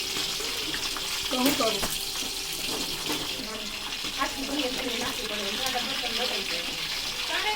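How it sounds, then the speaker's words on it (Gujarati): Green chillies frying in oil in a home kitchen, a continuous broad hiss and sizzle that stays fairly loud throughout, with people talking underneath. "હાલો હવે મરચા તરાઈ ગયા હે મીઠું છાંટી દઈ"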